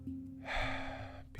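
A deep breath through an open mouth during an emotional release breathing exercise: one long, rushing breath, close and fairly loud, fading out near the end, with no speech over it.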